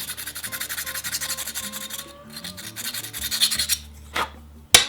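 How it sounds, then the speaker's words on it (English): Sandpaper rubs back and forth over a brass rifle shell case, being shaped into a pipe tamper, in a quick steady rasping rhythm that is close and fairly quiet, with a couple of small clinks near the end. "And a little bit of sandpaper."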